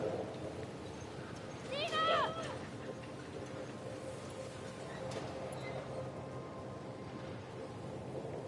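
A horse in The Last of Us Part II clops along with steady hoofbeats, and a short whinny stands out early. The hooves sit under a continuous outdoor game ambience.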